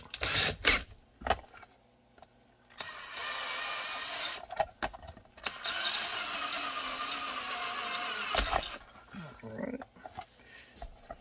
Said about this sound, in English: I use my body to control the drill.